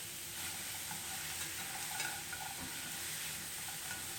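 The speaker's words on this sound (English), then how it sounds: "Veggies are popping everywhere." Vegetables sizzle and pop in a frying pan while an omelet is being made, a soft continuous crackle with faint scattered pops, fairly quiet and with no talking.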